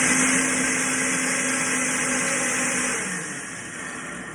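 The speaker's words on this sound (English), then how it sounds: "I'll edit this video so you don't have to listen to the noisy blender." A noisy countertop blender mixing a heavy metal detox smoothie runs as a steady loud motor whine with a tonal hum that drops and softens partway through, no talking.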